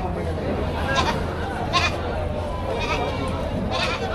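A goat bleats several times over about four seconds at a livestock auction, with steady crowd chatter and background noise underneath.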